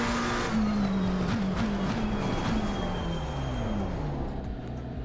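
A McLaren race car in a racing video game does a tire burnout at Monza, the engine droning steadily at high revs with a squealing tire whine, loud and close, no talk.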